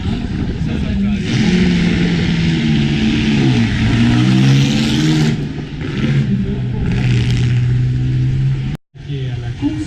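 A historic car accelerates hard off the start line at a hill climb in Chanteloup-les-Vignes, its loud, close engine note rising and falling through several revving sweeps before cutting off abruptly near the end.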